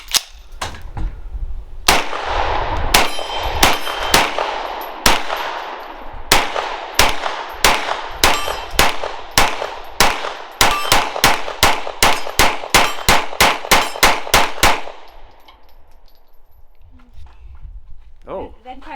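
Grand Power Stribog SP9A3G 9mm pistol-caliber carbine firing a long string of sharp, loud, evenly spaced shots outdoors, about twenty-five cracks in quick succession before the firing stops and a quieter tail follows.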